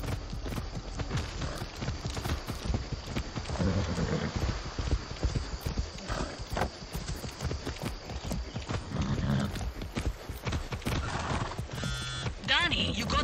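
Rapid hoofbeats clatter steadily throughout, a galloping horse with an occasional snort in Far Cry 6, under a continuous bed of game ambience.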